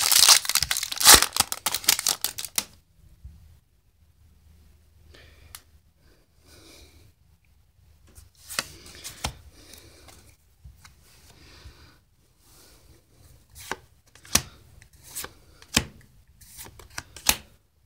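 A Yu-Gi-Oh Invasion Vengeance booster pack is torn open with loud crinkling foil rips up close, then quieter rustling and sharp crackles of the wrapper and cards being handled, no one talking.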